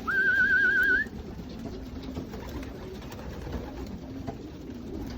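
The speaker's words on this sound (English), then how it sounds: "Young birds are buzzing." Young racing pigeons in a loft, soft cooing and buzzing wing sounds at low volume, opened by a short wavering human whistle calling the birds.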